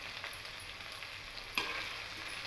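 Tamarind being stirred into ivy gourd chutney mixture frying in a pan, a soft steady sizzle with a brief scraping stir partway through, close and fairly quiet with no talking.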